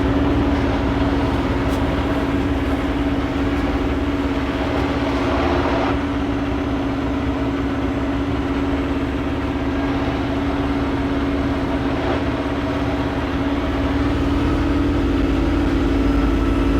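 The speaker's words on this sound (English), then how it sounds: "Train has been coming and going" A train idles or passes near a truck by the Pattullo Bridge in New Westminster, a loud, steady low engine rumble with a constant hum that stays level throughout.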